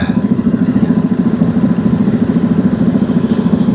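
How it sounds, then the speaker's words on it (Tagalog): Motorcycle engines, including a BMW GS 1200, running at a beach in Ulsan, a loud, close, steady low throb with a rapid pulsing rhythm throughout. "Wow, gaganda naman ang motor nila"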